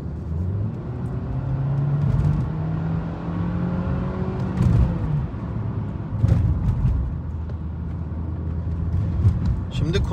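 Mercedes E180 W212 with a 1.6 petrol engine accelerating hard from inside the car: the engine drone climbs steadily in pitch, with road rumble and a few brief knocks and clicks.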